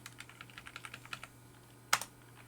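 Quiet typing on a computer keyboard, a short run of evenly spaced light key clicks followed by one louder double tap, close and with no voices.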